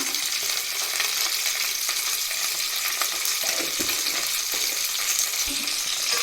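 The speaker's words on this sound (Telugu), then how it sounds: "ఇలా ఐటమ్స్ వేసుకున్న తర్వాత చక్కగా కలుపుకోవాలి" Khichdi with ginger fries steadily in a pan, a loud continuous sizzle with soft stirring scrapes and occasional spoon knocks against the pan, no one speaking.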